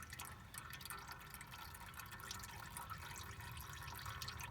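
Engine oil drains from a John Deere 4700 compact tractor during an oil change, a faint, continuous trickle with soft drips, quiet and close, with no one speaking.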